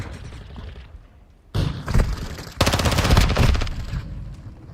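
Bursts of automatic gunfire in Call of Duty Modern Warfare II, a short volley followed by a longer rapid stream of close, loud shots with thuds.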